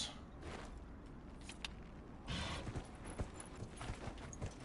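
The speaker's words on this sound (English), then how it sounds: "Mount the horse." Horse hooves clip-clopping on the ground in the video game Dragon Age: Inquisition, faint irregular steps under a quiet background.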